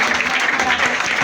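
A deliverance prayer congregation breaks into loud, continuous clapping, dense and close, with a voice faintly running underneath.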